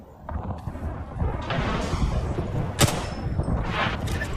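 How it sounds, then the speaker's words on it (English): In Apex Legends, a video game, a knuckle cluster ability fires a rapid cluster of small pops and bangs amid steady gunfire, with one sharp loud crack near the end. "Deploying me knuckle cluster"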